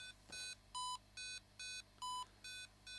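A Roadie 3 guitar tuner beeps in a steady series of about seven short, clean electronic tones, evenly spaced and alternating slightly in pitch, close and moderately loud with no talk.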